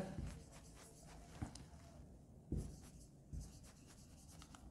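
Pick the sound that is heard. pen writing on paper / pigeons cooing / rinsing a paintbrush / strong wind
pen writing on paper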